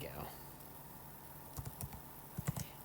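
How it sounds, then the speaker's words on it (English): Soft, quiet typing on a computer keyboard: a few light key clicks in small clusters near the end, over a faint background hiss. "notice I'm just typing this in"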